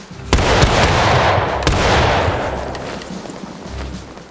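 A musket volley in the War of Rights video game: a sharp ragged burst of many shots cracking out together, then a second volley rolling in and fading to a long echoing rumble, loud and close.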